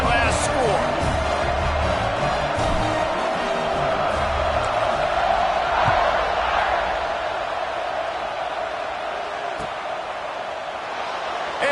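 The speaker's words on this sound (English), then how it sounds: "this crowd is buzzing after that last score" Steady stadium crowd buzz from a college football video game, CFB26, in a road game against Florida, a broad continuous roar carrying through the whole stretch, with commentary talk layered over it and a few sharp thuds.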